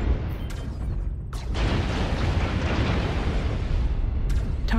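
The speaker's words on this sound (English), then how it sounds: "Airstrike activated." A video game airstrike sets off a loud, sustained barrage of deep explosions, a dense rumbling roar with a few sharper bursts on top, with no talk over it.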